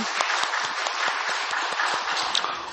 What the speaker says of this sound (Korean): 주님께 영광의 박수를 돌리십시다